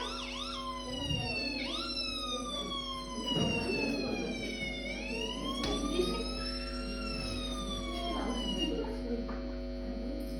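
An ambulance siren sound effect in a Bengali radio drama wails in rising and falling sweeps for the whole stretch, with voices faintly underneath.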